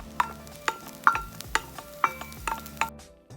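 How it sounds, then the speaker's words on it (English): Spring onion being stirred into Chinese sausage (lap cheong) fried rice in a pan after the heat is turned off, giving seven sharp, evenly spaced scraping clinks of a utensil against the pan with a faint sizzle underneath. "Add in your spring onion, mix, and it's ready to be served."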